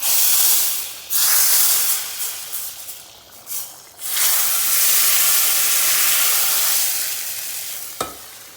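Hot mint oil hits green lentil soup with a loud, close sizzle and hiss that surges, fades in bursts as it is stirred, then holds as a steady frying crackle with a brief clink near the end.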